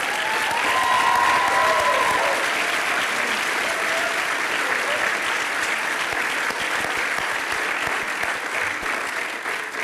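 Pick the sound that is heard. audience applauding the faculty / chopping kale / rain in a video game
audience applauding the faculty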